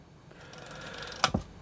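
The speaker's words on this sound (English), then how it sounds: "Now this is your wind on lever. It's very nice action." A Zenit 11 35mm SLR camera's wind-on lever is worked, giving a quick run of small ratcheting clicks ending in a firmer snap, close up and alone with no talk.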